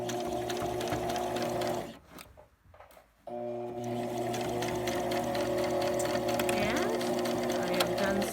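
A domestic sewing machine stitches fabric for a hair scrunchie with a steady, close mechanical whir, stopping briefly for about a second before running again.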